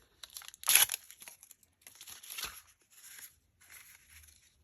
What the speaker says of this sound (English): to just kind of crumple it up and put it on there